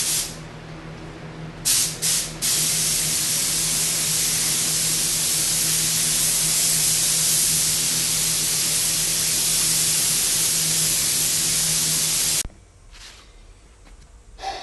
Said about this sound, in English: I will be using a GTI Pro Light spray gun